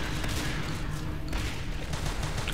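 Shotgun blasts from two marines in Natural Selection, fired over an alien hive during a competitive match, come as dense, loud overlapping bursts that continue without pause.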